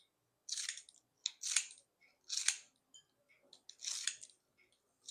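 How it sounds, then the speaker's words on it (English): Green onions being sliced into small pieces with a knife or scissors, giving a run of short, crisp cutting bursts in several separate groups, close and fairly quiet with no talk. "wash my green onions, slice them up, and cut them fairly small like that"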